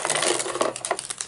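Small toy cutlery from a children's play set clinks and rattles in light, rapid metallic taps, close and continuous for about a second with no voices.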